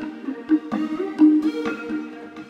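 A REFX Nexus synthesizer arpeggio preset runs a quick, rhythmic pattern of bright repeated synth notes over a pulsing low tone, dense and steady throughout.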